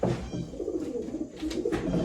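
Low, continuous pigeon cooing close by, a throaty rolling murmur that carries through the whole stretch without pause.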